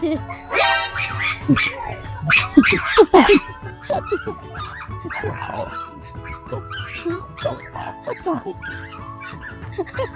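A dog at a large seaside market in Jomtien gives a few short yips and whimpers amid busy crowd chatter, with people talking nearby throughout.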